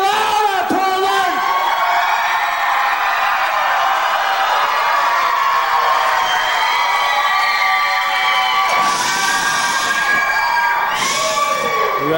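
A large concert crowd in Portland screaming and cheering loudly and continuously, with high shrieks and whoops rising in waves.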